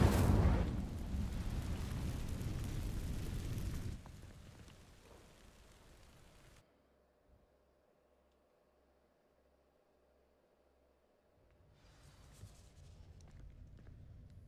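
A fire spell ignites dry vines in the Hogwarts Legacy video game, giving a loud crackling, roaring burst for about four seconds. The burst then fades into a low rumble, near silence and quiet ambience.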